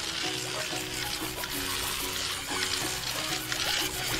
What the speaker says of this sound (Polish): Spłuczmy teraz te bąbelki.